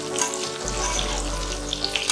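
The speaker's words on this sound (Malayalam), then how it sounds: "എടുത്തു വച്ചിരിക്കുന്ന പച്ചമുളക്, വറ്റൽമുളക് ഇത് രണ്ടും ചേർത്ത് കൊടുക്കാം." Green chillies and dried red chillies hit hot oil in a pan with a sudden, steady sizzle that keeps up close and fairly loud, with small crackling pops throughout and no talking.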